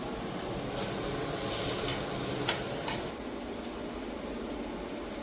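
Brinjal bhaji cooks in a pan over a low gas flame, a soft continuous sizzle with a couple of light utensil clinks partway through; nobody speaks.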